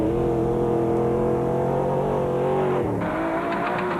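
Atlas Copco Chicago Pneumatic Jeep racing in the Mmabatho 500 off-road rally, its engine droning steadily at high revs and close by, with a brief dip in pitch near the end before climbing again.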